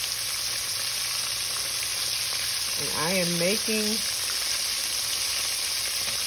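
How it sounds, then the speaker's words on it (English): Continuous hissing sizzle of jackfruit frying in a skillet, close and steady, with a brief voice speaking over it midway. "What do you think this is in this skillet that I'm frying?"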